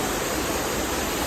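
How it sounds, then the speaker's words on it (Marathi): Strong, fast-flowing stream water rushing through Sanjay Gandhi National Park in Borivali, a dense, steady roar that fills the whole clip without a break, loud and close, with no voices over it. "पाण्याचा प्रेशर एकदम भरपूर आहे"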